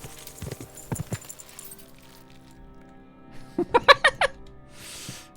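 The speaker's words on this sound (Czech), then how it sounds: "takhle se vypadá jízda na koni, kterého svět neviděl" Horse hoofbeats while riding in the medieval game Kingdom Come: Deliverance 2, a short burst of several loud, close clip-clops in quick succession after quieter sounds and brief talk.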